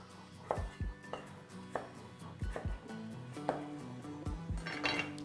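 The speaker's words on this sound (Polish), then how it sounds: "Następnie wkroję 3 takiej dość dużej wielkości ziemniaki. Pokroję je w większe kawałeczki." A knife chops three fairly large potatoes into bigger chunks on a cutting board, giving a series of dull, irregular thuds at close range with no talking.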